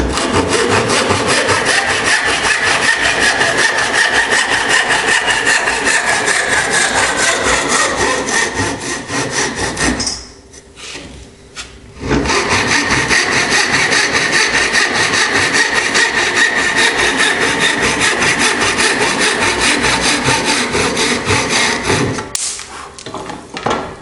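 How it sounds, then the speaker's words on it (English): A hand saw cuts wood for a mortise and tenon joint in long, steady rasping strokes, loud and close, pausing briefly twice before sawing resumes. "I think for this stage I'll just use a saw."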